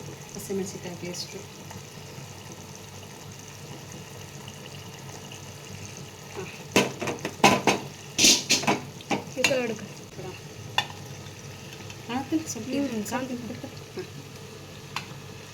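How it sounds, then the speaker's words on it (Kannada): Turmeric and green chili paste frying in oil for mutton saaru: a low continuous sizzle, then a busy stretch of loud spoon scrapes and clatters against the pan, with a voice briefly near the end. "ಫ್ರೈ ಆಗಲಿ. ಎಣ್ಣೆ ಫ್ರೈ ಆಗಲಿ"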